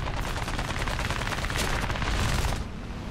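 A 20 mm aircraft cannon fires in the War Thunder video game, a continuous rapid burst of heavy, loud shots lasting about two and a half seconds before it stops abruptly.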